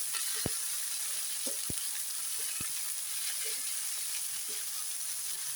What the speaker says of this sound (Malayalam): ഇതെല്ലാം ഒന്ന് വാട്ടിയെടുക്കാം